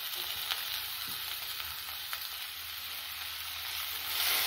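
Onion, capsicum and coriander leaves sauté in a pan for masala macaroni pasta, a steady close sizzle and hiss of frying with faint stirring and no speech.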